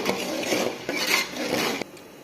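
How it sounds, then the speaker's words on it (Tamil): A spoon scrapes and stirs peas around in a metal pot with wet, shuffling swishes in a few sweeping strokes, close up. "இப்போ நல்லா கட்டி கட்டாமல் கிண்டி விடணும்"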